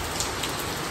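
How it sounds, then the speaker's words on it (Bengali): Heavy rain pours down in a dense, loud, steady hiss with a couple of brief splashy spikes, no talking. "কি দারুণ বৃষ্টি।"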